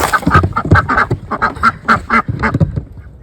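Ducks being let out of their coop onto snow quack repeatedly in loud, close, overlapping bursts, forming a busy irregular chorus of several birds with no one talking.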